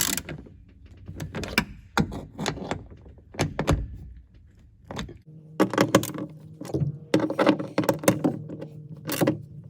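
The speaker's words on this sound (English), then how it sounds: "So I'm going to tighten down these bolts." A wrench tightens bolts on the T-top clamp of a 1972 Corvette C3, a close series of rapid metallic ratchet clicks and clunks in several bursts, no voices.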